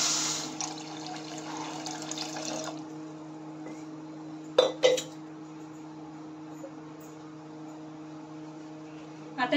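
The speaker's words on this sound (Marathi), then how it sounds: "साखर भिजेपर्यंत आपण याच्यामध्ये पाणी घालणार आहोत" Water runs from a tap into a pot of sugar on a gas stove for syrup, a steady pouring hiss for a few seconds that then stops, followed by quiet with a couple of brief clanks.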